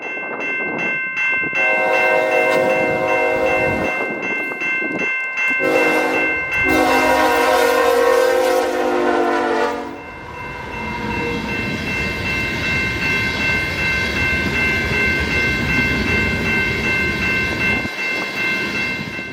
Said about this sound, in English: we see Sand Train 645 fly through town with only seconds to spare